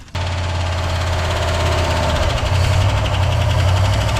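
A 1964 Oldsmobile 98 engine runs loud and steady at high idle after a sudden start, with a deep rumbling hum and a slight rise in intensity partway through, close up.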